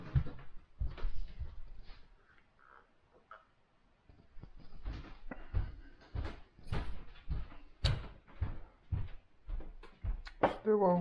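Doors and cupboards bang shut indoors in a series of sharp knocks and thuds after a supermarket shopping trip, mixed with rustling and handling noises.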